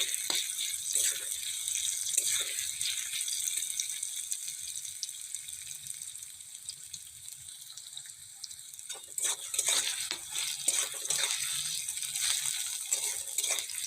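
Two medium onions frying in hot oil until reddish, for a cauliflower and potato dish: a steady, bright sizzling hiss close by, with occasional rattles and scrapes from stirring.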